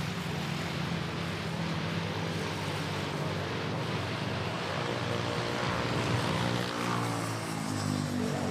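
A passenger jet lands at Manila Airport, a loud continuous engine roar and rumble heard close up from the ground, steady throughout with no voices.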